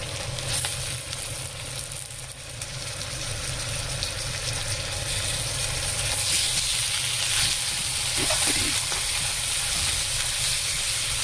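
Fish frying in a pan with ginger-garlic paste, a steady close sizzle and hiss that grows slightly louder, with a few faint utensil clicks.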